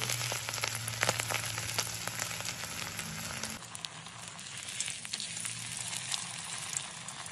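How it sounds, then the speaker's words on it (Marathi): Surmai kingfish coated in spice mix fries in oil on a flat tava, giving a steady crackling sizzle with dense pops and spatters that continues throughout at moderate loudness. "त्यानंतर एका तव्यामध्ये तेल टाकून सुरमई फ्राय करण्यासाठी टाकायची आहे"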